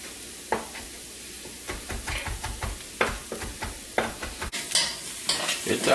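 Chopped rehydrated mushrooms are stirred in a pot, producing close, irregular scraping and clacking strokes over a light sizzle, the stirs growing busier toward the end, with no voices.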